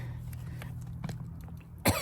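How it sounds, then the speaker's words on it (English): A single sharp cough bursts out near the end, close and loud, after a stretch of low steady background hum. "Now, that did make me cough"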